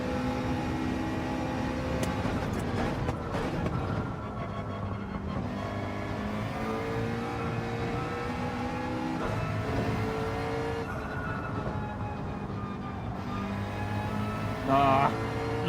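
A McLaren race car engine in the video game Gran Turismo 7 holds a steady drone as the car laps a track, its pitch rising and falling through gear changes, with someone talking over it.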